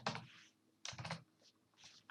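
Fingers type on a computer keyboard in quick clustered bursts of clicky keystrokes with short pauses between them, faint and close, with no voices.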